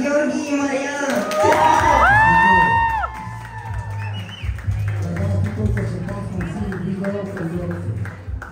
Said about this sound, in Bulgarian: аплодисменти за нашите участници